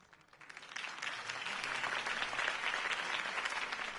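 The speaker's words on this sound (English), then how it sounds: "If only Mr. Wayne, my campaign's largest backer, could have heard that applause" Applause from a crowd after a mayoral campaign speech in a live stage show, swelling from quiet to a steady, dense clapping that holds through to the end.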